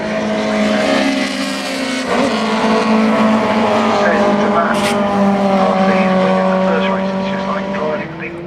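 Caterham Seven-style race cars, light cars with four wheels and little bodywork, race past in a loud, continuous engine roar with sustained high revving and shifting pitch, a brief squeal near the middle, and a voice talking underneath.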